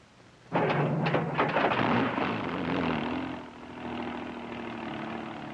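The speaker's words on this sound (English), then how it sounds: "Now to start the engine." A helicopter engine starts up in a light aircraft, cutting in sharply after a quiet moment, then settling into a steady loud idling drone with a shifting tone, heard alone without talk.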